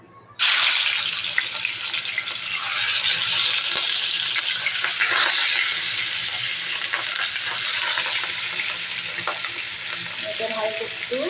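Fish coated in turmeric and salt frying in hot oil in a wok, a loud, steady sizzle that bursts in suddenly and crackles on throughout, with occasional stirring clinks.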